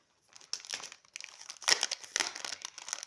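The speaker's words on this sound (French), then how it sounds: "Je vais quand même enlever ce scotch là." Adhesive tape peeled and crinkled off a small purple plant pot holding a Maranta lemon lime, a close series of ripping, crackling bursts with short pauses, no talking.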